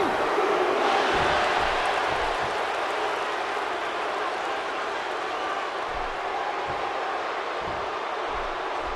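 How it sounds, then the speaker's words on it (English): Arena crowd in the WWE 2K16 wrestling video game roars in a steady, dense wall of cheering that stays loud throughout. "by the sound of this crowd, I think they're getting what they wanted"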